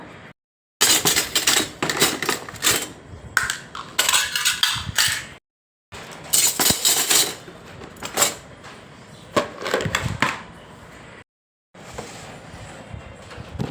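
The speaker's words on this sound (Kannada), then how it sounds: "ಸೊ ಸ್ಪೂನ್ಸ್ ಎಲ್ಲ ಒಂದು ಕಡೆ ಹಾಕೋಣ ಅಂತ" Metal spoons clink and clatter as they are gathered together in a small home kitchen. Several bursts of close, bright rattling are separated by brief silent gaps.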